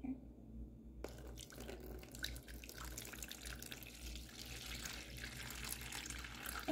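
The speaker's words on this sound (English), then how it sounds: "So I'm gonna pour the water in to the clear container." Water pours steadily into a clear container during a science experiment with a coin, a continuous close splashing and trickling stream that starts abruptly and runs on without any voices.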